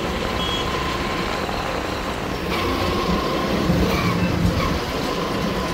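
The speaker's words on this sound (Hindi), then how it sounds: "सामने आ रही है मेट्रो" A Delhi metro train rumbles and clatters past overhead at night, a continuous loud rolling roar with faint rhythmic clacking and distant traffic, no talking.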